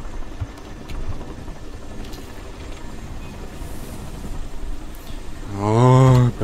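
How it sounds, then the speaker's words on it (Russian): Helicopter in the video game Crysis swelling up near the end as a loud rotor drone with a strong low harmonic hum, rising over a steady background of game ambience and rumble. "Вертолет. Опять что ли вертолет?"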